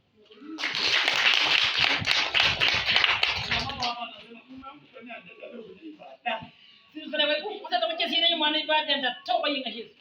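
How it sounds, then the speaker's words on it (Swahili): A group of people clapping their hands in a dense burst of applause for a few seconds, then it stops and a voice talks over quieter tapping. "Nipigie makofi."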